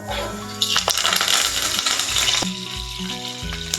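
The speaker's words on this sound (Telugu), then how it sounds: "ఆయిల్ కాగినాక ఇందులోనే మనం కొద్దిగా జీలకర్ర వేసి అందులోనే కొన్ని కరివేపాకు రెబ్బలు వేస్తున్నాము" Cumin seeds and curry leaves drop into hot oil and sizzle loudly, crackling and spitting close up with a steady hiss that rises and then eases.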